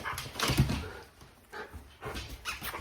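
A pet dog whimpers and yips excitedly at close range in a home, with short bursts of whining and soft vocal noises coming in uneven spurts.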